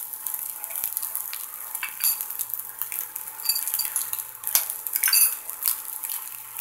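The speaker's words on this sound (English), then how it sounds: "And so we'll just fry the egg on the side right there." An egg frying in a pan beside hamburger fried rice, a close, steady crackling sizzle with scattered clicks and scrapes of a utensil, no talking.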